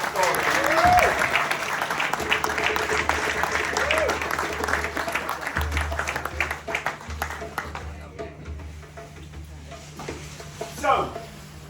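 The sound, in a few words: audience applause after a told story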